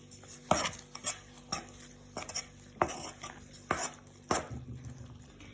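Utensil repeatedly scraping and knocking against a bowl while sugar and vanilla sugar are stirred into pastry dough for sweet apricot buns, about six distinct clattering strokes at an uneven pace, close by with no talking.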